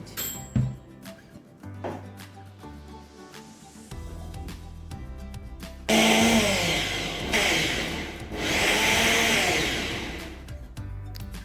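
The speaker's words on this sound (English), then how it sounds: "So I'm just going to cover this up and blend." A kitchen blender grinds bitterleaf soup ingredients, starting with a few clicks and a low motor, then roaring loudly from about six seconds on in a steady, churning whir with slight surges.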